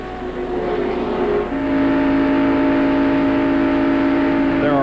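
NASCAR stock cars racing in the 1995 Pepsi 400 at Daytona, a loud sustained engine roar with a steady high drone that shifts pitch as cars pass, thick and continuous throughout.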